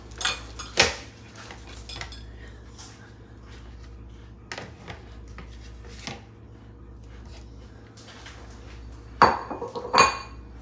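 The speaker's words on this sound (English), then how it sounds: "I'm going to put this plate over it. I'm going to flip the plate." A plate and pan clatter as they are flipped over together with a Portuguese dish, sharp ceramic and metal clinks at the start and end with softer scraping knocks in between, close and fairly loud.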